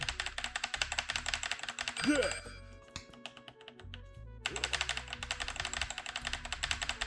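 Rapid keyboard typing clatters close by, pausing briefly in the middle amid a few soft knocks, then resuming at a steady pace.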